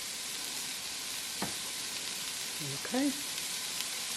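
Onions and celery fry in a pot for chicken gnocchi soup with a steady, close, hissing sizzle, and someone briefly speaks over it.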